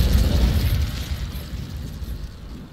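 Fiery Incendio spell blast in the video game Hogwarts Legacy, a loud roaring burst with heavy low rumble that slowly fades over a few seconds, with no voices.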